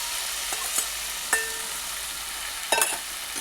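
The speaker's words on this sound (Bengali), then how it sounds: "আলু পটল দিয়ে ভালো করে কষিয়ে নিচ্ছি।" Potatoes and pointed gourd being stir-fried in a spice paste, giving a soft, steady sizzle with a few sharper scrapes and clinks of stirring spread across the stretch, no voices.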